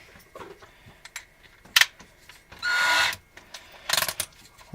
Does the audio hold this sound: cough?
no